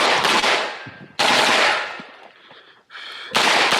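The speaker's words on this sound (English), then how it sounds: "That one extra shot made me do a reload." Pistol fire at a USPSA shooting match, with loud, sharp bursts of rapid shots in quick strings separated by brief pauses, close and echoing.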